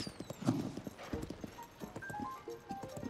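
A horse's hooves clip-clop in quick, irregular beats in Zelda: Tears of the Kingdom, close and moderately loud, with a brief snort among the steps and game sounds behind.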